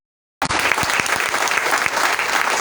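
A church congregation bursts into sustained, loud applause that starts abruptly and keeps going as an even, dense wash of clapping from many hands in a large room.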